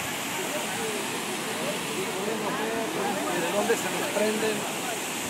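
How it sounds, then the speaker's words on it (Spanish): Broad steady rush of tourist-site waterfalls close by on the right, filling the whole stretch as a dense wash of water noise, with people talking over it. "Tenemos las cascadas acá a nuestra mano derecha."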